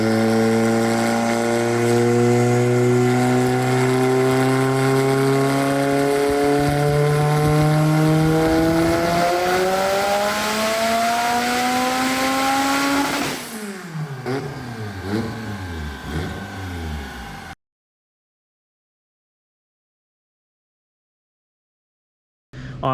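An 800whp Mitsubishi Evo 8 roars through a full dyno pull, engine pitch climbing steadily and loudly for about thirteen seconds before lifting off into a burbling, popping wind-down, then silence.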